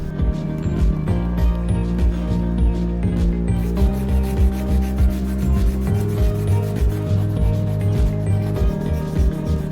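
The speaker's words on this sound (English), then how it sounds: "I then removed the surface layer of resin with wet sandpaper" Wet sandpaper taking surface resin off the handle of an old kitchen knife, a continuous close rasping rub with a faint steady hum beneath and no talking.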